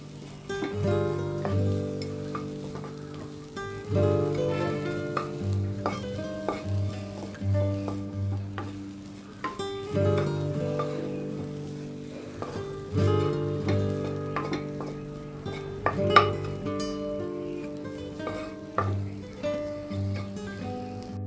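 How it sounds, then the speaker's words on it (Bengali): Chopped onions stirred and softened in a kadai: a soft sizzle sits beneath looping background music, with occasional spatula scrapes and light clinks against the pan, close-up and without speech. "এখন আমি এটাকে একটু নেড়ে চেড়ে নরম করে নিব পেঁয়াজটাকে"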